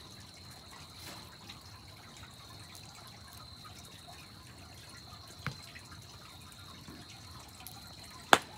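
Small water drips tap faintly beside an outdoor campfire near a camper in Dawsonville, Georgia: two sparse, isolated drops land seconds apart over a quiet background with a steady high insect-like tone.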